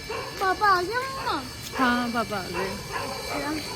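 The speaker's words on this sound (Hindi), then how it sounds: "और देखो कुत्ते भौंक रहे हैं।" Dogs barking in a residential street, with several sharp, yelping barks at middle distance that come in bursts under and between the nearby voices of people talking.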